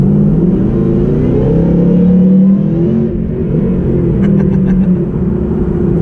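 A Stage 2 Whipple-supercharged 2018 Mustang with a 10R80 automatic accelerating in a roll-in pull, heard from inside as a loud, steady engine rumble that climbs in pitch, with a brief dip around a gear change.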